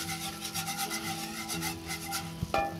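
Metal whisk working milk and cream into a small butter-and-shallot white roux in a pan, giving a steady rubbing, scraping rasp with a sharper clink near the end, close and moderately quiet.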